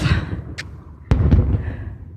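Fireworks set off outdoors at a firework show, with sharp bursts and crackling pops, one loud close bang around the middle, over a steady rumble of background noise.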